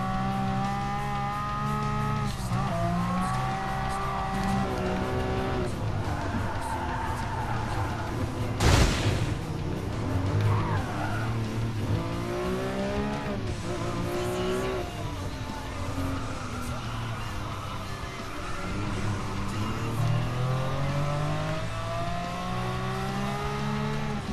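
A 12-cylinder car engine roars in the Gran Turismo Sport racing game, holding steady and loud for a long stretch with rising and falling revs through gear changes, plus occasional tire squeal and one sharp bang.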